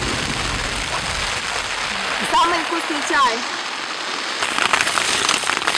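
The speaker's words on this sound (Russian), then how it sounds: "начался дождь ровно, как мы поставили палатки" Steady rain patters on tents, a dense hiss throughout, while a person speaks briefly in the middle; camping in the Gorgany mountains near Lake Nesamovyte.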